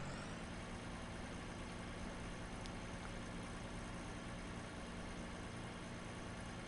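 A modded tractor engine in the Farming Simulator video game runs as a steady, dense rumbling drone, loud and unchanging throughout with no talk over it.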